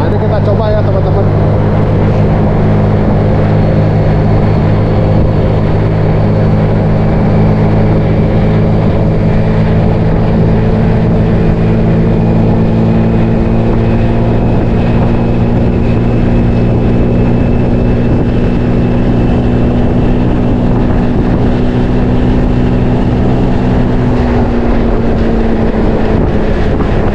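A Honda Beat scooter fitted with a Ferrox racing air filter accelerates on the road. The engine drone rises steadily in pitch under heavy, continuous wind rush, loud and close.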